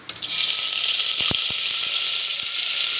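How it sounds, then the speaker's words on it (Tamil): Cashews frying in hot ghee give a steady bright sizzle and bubbling throughout, with a few brief low clicks and knocks from the pan partway through, close and continuous without talk. "இந்த நெய்யில் ஒரு 20 முந்திரி பருப்பை ஃப்ரை பண்ணி எடுத்து வச்சுக்கலாம்"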